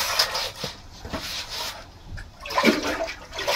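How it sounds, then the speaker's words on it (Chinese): A pickling jar that held ginger is rinsed with water beside an old village well. Close splashing and sloshing come in short, uneven bursts, briefly and with no voices. "这个坛子之前腌的那个姜的，姜吃完了，把坛子洗一下"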